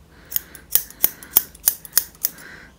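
Fabric scissors snipping through faux-fur material for a DIY purse, about eight crisp close cuts in an uneven rhythm, quiet otherwise with no talking.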